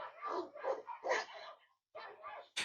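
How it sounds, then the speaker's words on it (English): Dogs barking as background noise, picked up through a Poly Voyager Free 60 earbud microphone during a noise-cancellation test: several loud, close bark bursts in quick succession, a short pause, then more barks with a sharp final yip. "And lastly, we got barking dogs."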